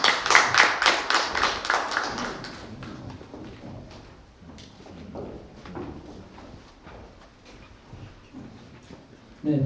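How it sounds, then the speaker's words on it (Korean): Audience at a youth policy ignite talk event in Jinju welcomes a presenter with a burst of hand clapping that is loud at first, then thins into scattered claps and fades out over several seconds. "여러분, 조항인 님을 큰 박수로 맞이해 주시기 바랍니다."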